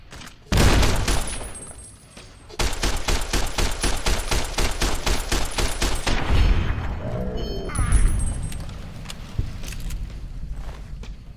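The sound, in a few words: grenade launcher explosions and gunfire in Fallout New Vegas video game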